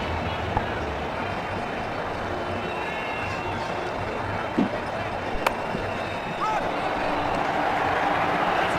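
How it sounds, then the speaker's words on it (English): Crowd in the Ashes Cricket 2009 video game, a dense continuous roar of cheering and murmur throughout, with a few brief sharp clicks and faint talk layered in. "Just listen to the crowd."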